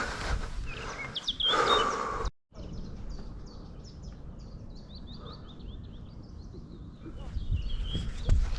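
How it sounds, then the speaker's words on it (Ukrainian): Birds chirping outdoors on a mountain bike trail in Germany, high, faint repeated calls in short phrases over a low rumble of wind and movement, with a louder burst of noise near the start. "пташки співають"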